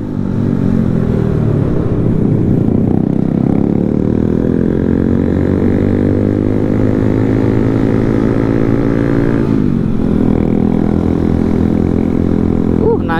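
Honda CBR150R motorcycle engine climbing uphill, a loud steady drone with rising pitch that drops sharply once as revs fall, then builds again, close and continuous with no talk.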